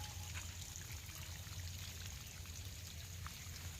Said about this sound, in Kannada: ನೀರು ಬಿಡಾಕತ್ತ ನೋಡ್ರಿ